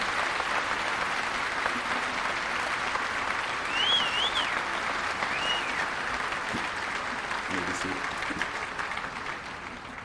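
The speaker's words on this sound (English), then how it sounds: "I ask that you join me in recognizing them with a round of applause" An audience at a high school commencement ceremony claps steadily for honor students in a large hall, the applause sustained throughout and fading slightly at the end, with a few faint whistles and a voice or two in the crowd.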